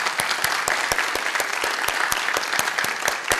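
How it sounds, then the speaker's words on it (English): Audience applause fills the room at a Rotary Club speech contest in Ohio, a dense steady wash of many hands with a few sharper individual claps standing out, continuous and close. "let's have a round of applause for everyone"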